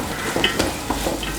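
Onions sautéing in oil for mutton curry, with a steady close sizzle and a few spoon scrapes stirring through the pan over a brief stretch.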